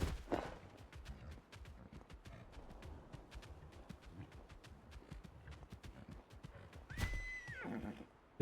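A horse in the video game Palia trots with steady clip-clop hoof beats at moderate volume, then lets out a loud whinny near the end.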